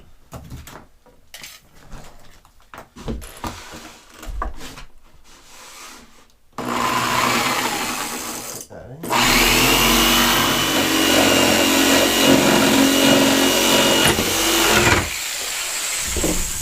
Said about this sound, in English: Make sure you keep it up off the ground, obviously, if you're using a jigsaw.